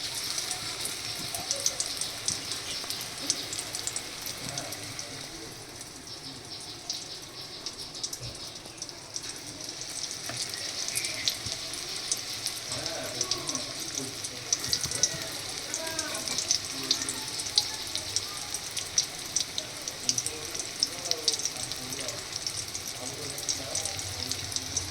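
Chicken popcorn deep-frying in a pan of oil makes a continuous, fairly quiet bubbling sizzle that holds steady throughout, with occasional faint clinks and soft speech in the background.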